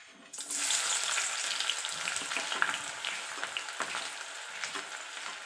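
Chopped onion drops into about three spoons of hot oil in an iron wok. A sudden burst of sizzling settles into a steady, close crackle with faint stirring, and nobody talks.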